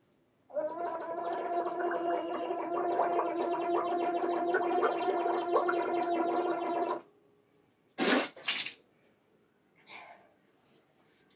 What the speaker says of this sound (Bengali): আমি তো এখন এই এক বাটি জল দিয়ে তো গার্গল করতে থাকবো